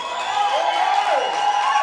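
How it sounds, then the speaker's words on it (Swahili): A church congregation shouts and cheers for joy during a New Year service, a loud sustained crowd roar with whoops and raised voices. "Kelele za shangwe kwa Bwana."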